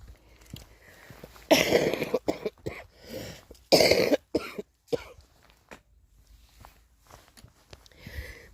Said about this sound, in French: Moi, je tousse toujours.